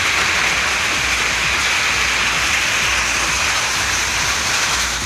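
Sudden rain falls steadily in Tamil Nadu, a dense, continuous hiss of drops that stays loud and even from start to finish with no voices.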